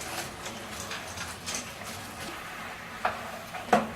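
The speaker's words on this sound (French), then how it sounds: "Je vais d'abord un peu remuer." Pasta for arrabbiata is stirred in a pot, giving soft scraping and swishing with a few sharper clinks near the end, fairly quiet and close, with no talking.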